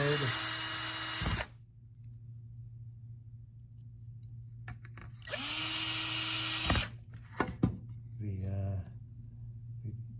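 A power screwdriver drives screws into a circuit board of a Mastermind PBC/6X controller, two loud whirring bursts separated by quiet, followed by small clicks and handling noises; someone speaks at times.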